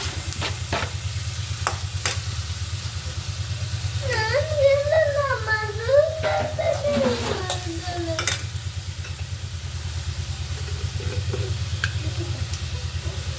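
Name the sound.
tomatoes frying and being stirred in a pan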